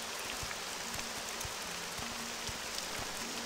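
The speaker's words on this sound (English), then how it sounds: "Now, it may be raining, and that may be loud" Continuous rain hisses in the video game Morrowind, a dense steady downpour with soft regular footstep-like thuds beneath it and no talking.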